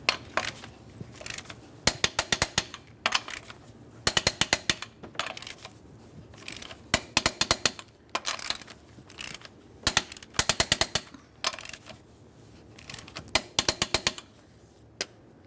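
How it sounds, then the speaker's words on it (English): Lug nuts on a 1994-2001 Dodge Ram 1500 front wheel being torqued in a crisscross pattern, heard as repeated bursts of sharp metallic ratcheting clicks separated by short pauses, close and fairly loud. "We'll be torquing each one of these lug nuts to 115 in a crisscross manner."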